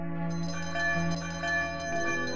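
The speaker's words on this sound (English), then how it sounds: "Then there were more bells" Bells ring through a house in the Muppet Christmas Carol read-along, a sustained, layered peal of tones that swells and shifts over a couple of seconds, fairly soft and without speech.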